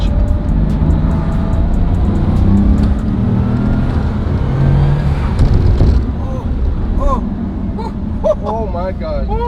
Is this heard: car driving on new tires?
yes